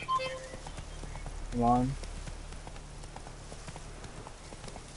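Horse hooves clip-clopping in The Witcher 3 video game, a steady soft trotting rhythm throughout, with someone speaking briefly over it and a short tonal game sound in the middle.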